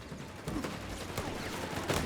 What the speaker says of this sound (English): Rifle engaging the Coastal Reservists up close here.